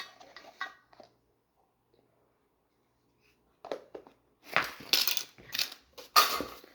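Batter with baking powder is mixed in a bowl, scattered soft scrapes and knocks at first, then a quiet pause, then louder bursts of stirring and clinks toward the end.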